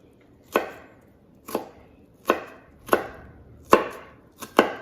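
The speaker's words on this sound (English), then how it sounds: "So these are all diced up now." Vegetables for guacamole diced with a knife on a cutting board, six crisp, distinct chops spaced roughly evenly at close range, with no one speaking.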